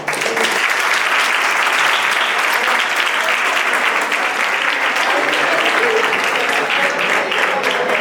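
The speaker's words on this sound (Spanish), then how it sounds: "Un aplauso" An audience applauds after a short talk at a book fair, a loud, dense and sustained wash of many hands clapping that fills the room without pause.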